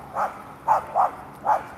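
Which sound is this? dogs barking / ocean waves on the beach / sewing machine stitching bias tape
dogs barking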